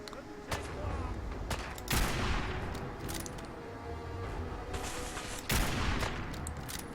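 Continuous rapid gunfire in the Fallout 4 video game, dense bursts with a few heavier booming shots, loud and steady throughout without a break.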